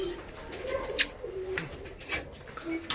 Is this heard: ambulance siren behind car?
no